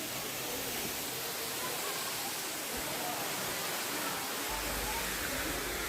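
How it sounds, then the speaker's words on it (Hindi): A waterfall near the Ellora caves in India pours steadily, a dense, even roar of falling water filling the whole stretch without pause. "यहाँ पर जो वाटरफॉल हो रहा है वो पहाड़ी के उस पार से आ रहा है और ये बहुत ही स्पीड से पानी गिरता है।"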